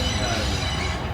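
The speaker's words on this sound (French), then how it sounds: "on voit un train qui arrive de Scarborough" A train from Scarborough pulls into York station, a steady rumble of rolling wheels and railway cars heard from a terrace overlooking the platforms, with faint voices mixed in.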